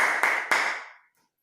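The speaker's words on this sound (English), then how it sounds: "When you're happy and you know, you clap your hands" Two sharp hand claps, a quarter second apart, ring out over a fading musical tone during a children's clap-your-hands song, then the sound drops to silence.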